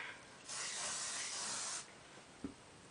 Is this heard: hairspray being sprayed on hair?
yes